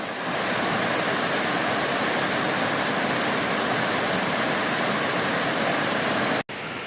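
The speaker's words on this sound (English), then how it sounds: "There's the river." A river flowing past a riverbank deep in the Great Smoky Mountains backcountry, a steady, full rushing wash that holds evenly throughout, close and loud, with no voices and only a momentary dropout near the end.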